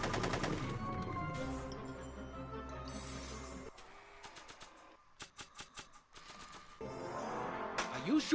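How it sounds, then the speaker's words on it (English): Gunshots in the Back to the Future adventure game: a few sharp, rapid bursts of cracks in the middle, set against game music that drops out and returns around them. "Are you shooting at me?"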